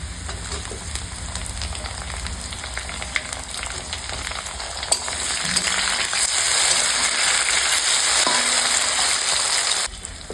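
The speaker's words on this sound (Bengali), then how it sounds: "এই সময় দিয়ে দিব আমি টমেটো কুচি।" Chopped tomatoes fry with browned onions in a pan, a steady close sizzle that swells louder midway, with scraping and clinking from stirring, then drops off sharply at the end.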